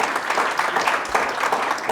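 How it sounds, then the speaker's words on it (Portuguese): Audience applause during a talk-show interview on tax strategy, a brief, fairly loud burst of many hands clapping steadily throughout, with no talking over it. "salva de palmas, salva de palmas!"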